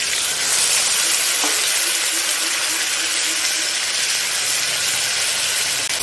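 Water is poured into a hot pan of village-style egg curry, setting off a loud, dense, continuous sizzle and hiss that stays steady throughout, up close and without speech.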